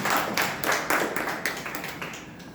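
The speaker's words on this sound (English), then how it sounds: "Can we have a huge round of applause for this?" A small club audience claps at a Toastmasters meeting, a steady patter of hand claps that fades gradually over a couple of seconds, with no talking.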